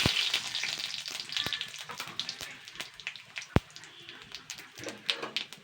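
Whole cumin seeds and dried red chillies fry in hot oil, giving a soft, crackly sizzle with scattered pops and a few sharp taps, at modest volume.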